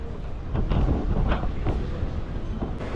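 A metro train in Taiwan rumbles past in a low, steady roar with faint rhythmic clacks and squeaks, fairly close and continuous, with no voices over it.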